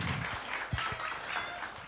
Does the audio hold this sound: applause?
yes